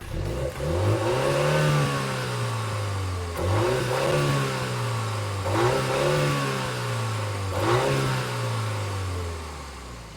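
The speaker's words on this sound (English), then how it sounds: "Let's take the John Cooper Works Cooper out on the road and see how it drives." A 2025 MINI Cooper John Cooper Works engine pulls through repeated gears on the road, each rising rev ending in a brief drop at the shift, steady and close with no voices.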